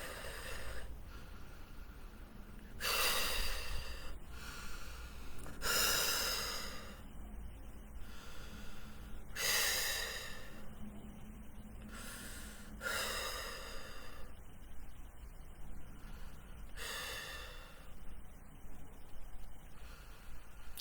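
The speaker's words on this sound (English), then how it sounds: "Just breathe in and breathe out." Slow, deep breathing during a guided meditation, long airy inhales and exhales repeating about every three to four seconds, close and fairly soft.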